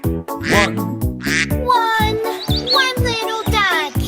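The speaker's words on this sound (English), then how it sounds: "Mother duck said quack, quack, quack, quack" Cartoon duck quacks in a children's nursery rhyme about little ducks, a run of repeated, bouncy, nasal quacks in a steady rhythm, mixed with higher squeaky chirps over a musical backing.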